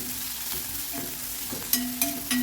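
Curry leaves and onions deep-fry in oil for an egg curry, a continuous close sizzle with several sharp clicks of a spoon stirring the pan toward the end.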